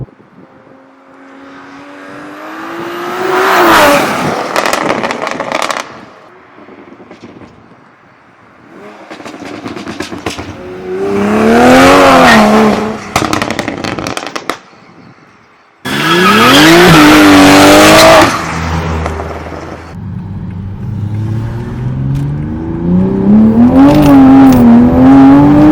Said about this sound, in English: Just like the turbo spooling with the pops. It coming around the corner.